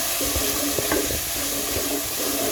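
Crushed ginger, garlic, shallots and green chilli sautéing in a pan for a sardine curry, a steady soft sizzle with light stirring scrapes, no talking.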